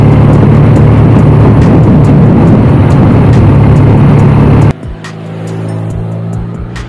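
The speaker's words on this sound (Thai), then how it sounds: "ขับรถมอเตอร์ไซค์เนี่ยเข้าโค้งนี่มันมันดีจริงๆนะ" Motorcycle riding through curves on a scenic tour, a loud engine drone under heavy wind rumble that suddenly drops to a quieter, steadier engine hum partway through.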